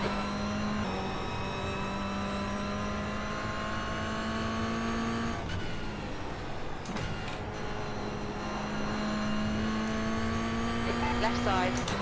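A race car engine in an iRacing sim race drones at high revs, holding steady tones with brief dips for gear shifts before climbing again, while a voice talks over it.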